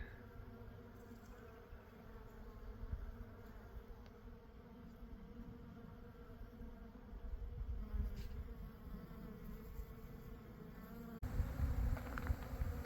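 Honey bees buzz steadily around almond blossoms and busy hives in a California almond orchard, a continuous droning swarm hum, soft and fairly close, getting louder near the end.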